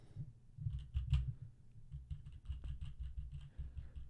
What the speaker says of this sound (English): you like the keyboard sounds?